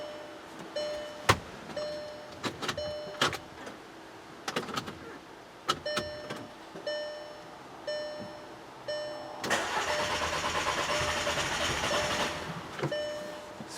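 A 2009 Volkswagen Passat 2.0T with a direct-injection engine cranks without catching, with intermittent clicks and short whirring bursts, then a sustained grinding crank stretch, all close and fairly loud with no talking.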